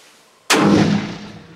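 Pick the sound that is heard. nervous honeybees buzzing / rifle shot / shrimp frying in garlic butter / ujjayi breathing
rifle shot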